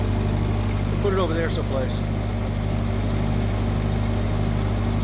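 A 1948 Ford 8N tractor engine idles steadily at low pitch, a constant close rumble running throughout while a person speaks briefly over it.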